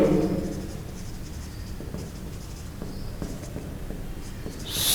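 Marker or chalk writing on a board during a physics lecture on resistivity and conductors, faint scratchy strokes in short bursts with room ambience and no talk.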